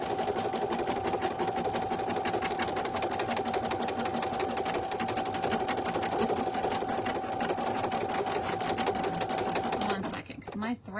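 A single-needle embroidery machine stitches a design onto a premade item, running in a steady, fast, close mechanical hum and chatter for about ten seconds before it stops abruptly.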